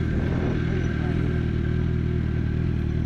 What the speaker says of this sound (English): I am riding the 2006 Suzuki Gsxr 750